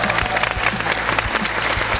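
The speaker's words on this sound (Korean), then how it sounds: "지금 우리 소나기님 박수." Studio audience applause on a Korean variety talk show, a loud continuous patter of many hands clapping throughout the brief moment.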